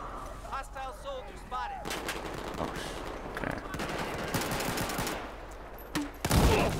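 Rapid bursts of automatic gunfire and heavy blasts ring out in Battlefield 4 beta multiplayer, dense and continuous, with a brief voice at the start and a louder explosion near the end.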